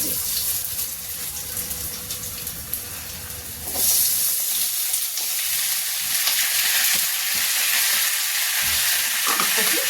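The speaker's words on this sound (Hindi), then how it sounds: "अब इसको थोड़ा सा फ्राई कर लेंगे" Ivy gourd (kundru) frying in spice masala in a wok, a loud steady sizzle that swells after a few seconds and runs continuously, with occasional stirring scrapes and no talk.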